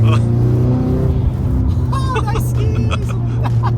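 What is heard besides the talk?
Nissan S15 Silvia kaido racer engine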